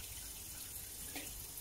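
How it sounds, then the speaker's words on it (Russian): Tap water runs steadily over clam innards (Arctic surf clam) being rinsed at a kitchen sink, a brief close splashing stream with no talking. "Вот это все мы промываем под струей воды."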